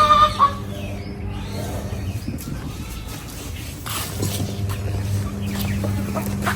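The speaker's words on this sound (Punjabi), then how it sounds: "ਹੁਣ ਆ ਦੇਖ ਲਓ ਦੋ ਮੁਰਗੀਆਂ" Hens cluck and murmur close by in a steady, low chatter, with a few sharper squawks early on and no talking.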